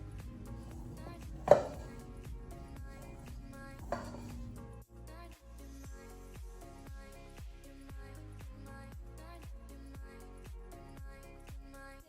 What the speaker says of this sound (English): we're just gonna add in half to the whipped cream and just start mixing